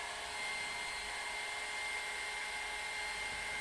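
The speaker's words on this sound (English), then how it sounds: "I'm just running the hairdryer over my hair while brushing down with the round brush" A hair dryer blows steadily on hot while a round brush works through a beard, a loud continuous airy whoosh with a constant motor hum, close and unbroken, no voices.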